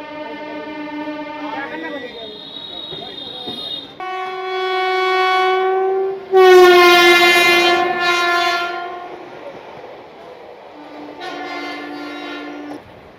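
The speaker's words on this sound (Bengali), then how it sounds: "12 নম্বর প্ল্যাটফর্ম থেকে বেরিয়ে যাচ্ছে আমাদের কাঞ্চনকন্যা এক্সপ্রেস।" The 13149 Kanchankanya Express passenger train pulls out of platform 12 at Sealdah, sounding several long, loud horn blasts over the low rumble of the moving carriages.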